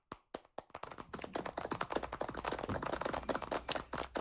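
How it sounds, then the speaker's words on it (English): At a digital art festival presentation, applause starts as a few sparse claps and quickly builds into dense, close clapping from a modest audience, sustained and fairly quiet overall. "A big round of applause for him."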